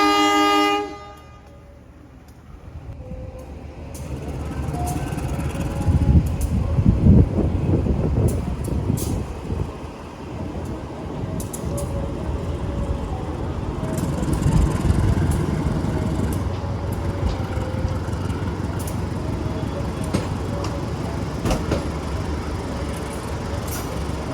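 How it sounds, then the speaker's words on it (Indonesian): A passenger train departs a station in Indonesia, rumbling and clattering steadily, with rail noise swelling and a brief horn-like tone early on, continuous and fairly loud throughout. "Oke, Pasundan berangkat, Serayu juga langsung diberangkatkan."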